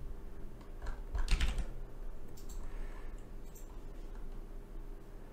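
Keys clatter on a computer keyboard as a search is typed, a quick burst of clicks near the start that thins into scattered taps over low room hum.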